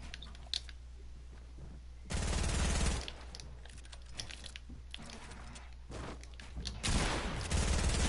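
Video game gunfire comes as two loud bursts of rapid automatic shots, each about a second long, separated by quieter game ambience and scattered clicks, with no talk.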